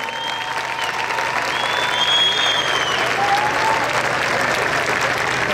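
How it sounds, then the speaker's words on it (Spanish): Sustained crowd applause at the proclamation of Fuenlabrada's 2019 patron saint festival, a steady wash of clapping from a large outdoor audience with voices faintly mixed in. "¡Un fuerte aplauso!"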